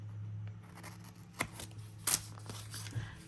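Scissors snip through sticker paper to cut out tree stickers at a desk. A few quiet, close cuts stand out over a low steady hum.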